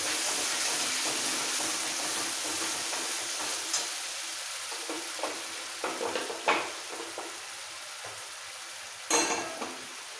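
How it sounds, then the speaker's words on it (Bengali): Spice paste with ground green chillies sautéing in a pan for egg curry as a little water goes in, a continuous hiss of frying with scattered stirring scrapes and a sharp splash near the end. "আর এই মশলাটা কষানোর সময় দিয়ে দিচ্ছি অল্প করে জল।"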